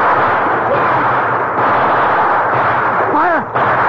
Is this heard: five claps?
no